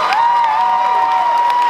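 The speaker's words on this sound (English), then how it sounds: "All right, give them all a big round of applause." Loud, steady crowd applause and cheering for beginner cosplay contestants at Aikon 2015, with a long sustained whistle or whoop tone holding over the wash of noise.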